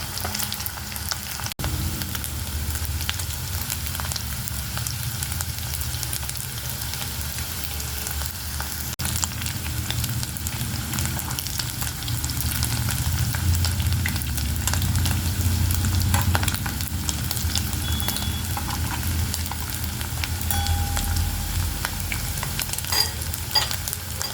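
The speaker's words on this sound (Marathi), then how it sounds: "आणि मोठ्या गॅसवरती करायचे आहे आपल्याला बटाटे फ्राय." Potatoes frying in oil over a high flame for dum aloo, a steady close sizzle and crackle running throughout with no talking.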